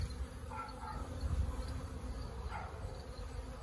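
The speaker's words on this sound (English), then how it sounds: "Honeybees." A swarm of honeybees drones continuously inside the wall of a house, a dense, steady buzz with faint wingbeat whine over a low rumble, close and even throughout.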